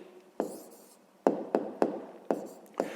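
Pen strokes writing out a math answer by hand, six sharp close taps and scratches with short decaying tails, spaced irregularly in a quiet room.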